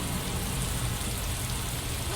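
Heavy rain pours down in a dense, constant wash of noise, steady and close with no breaks, with no talking heard.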